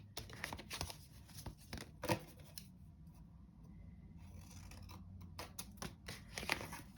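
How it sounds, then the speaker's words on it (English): Scissors snipping and shaping a paper flower petal, a series of close, quiet cuts with soft rubbing and rustling of paper between the irregular snips. "With my scissors, and we're just going to give it just a little bit of shape."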